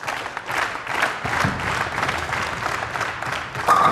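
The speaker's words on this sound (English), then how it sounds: "Pretty hollow applause from the crowd here at Barnsley" A darts crowd in Barnsley gives thin, hollow applause, a continuous patter of clapping at moderate level lasting the whole stretch with little cheering.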